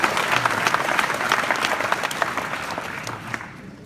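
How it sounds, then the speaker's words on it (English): Roughly six hundred people applaud Marty at the Boilermake 2017 hackathon opening, a dense, even wash of clapping across a large room, easing off slightly near the end. "So can we give him a quick round of applause?"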